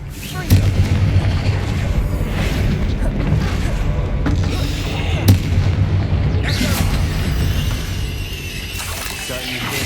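Confringo fire spell blasts in the Hogwarts Legacy game, a dense rumbling barrage of booms with sharp bursts near 0.5 and 5.3 seconds over continuous low roar and game sounds, loud throughout.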